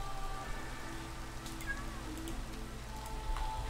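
Rain in the video game Minecraft, a steady soft patter of falling drops filling the background throughout, moderately quiet with no talk over it.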